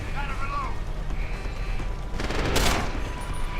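A burst of gunfire rings out in Deus Ex: Human Revolution, a short, sharp cluster of shots landing about two-thirds of the way through over a background of game ambience, with a voice talking nearby.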